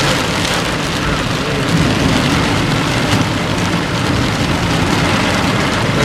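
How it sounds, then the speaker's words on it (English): Heavy summer rainstorm pouring down steadily, a dense, loud, continuous hiss of rain drumming on a car and the surrounding surfaces, close and unbroken throughout. "just from the rain coming down"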